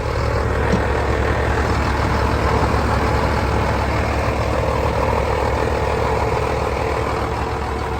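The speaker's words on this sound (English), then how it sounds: "we got both of them tractors running" A tractor engine running steadily after a boost start, a loud, continuous low rumble that holds even throughout with no talking.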